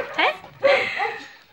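A young dog at a kennel in Laterza gives yips and whimpering barks in quick bursts, close and fairly loud, with a voice talking alongside.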